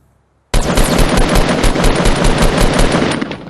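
Automatic weapon fire in Fortnite: Battle Royale, a sudden loud burst of rapid, evenly spaced shots starting after a short silence and running about three seconds before cutting off.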